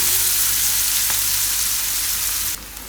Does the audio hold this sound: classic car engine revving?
no